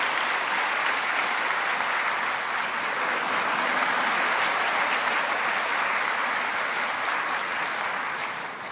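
An audience at a dawn prayer service in a Korean church applauds in a dense, sustained burst of clapping that holds steady for several seconds before beginning to fade.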